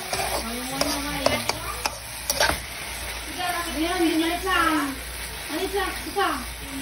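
Adobong kangkong, water spinach cooked in butter, is stirred in a pan with a soft sizzle and repeated scraping strokes, while a voice talks over much of it.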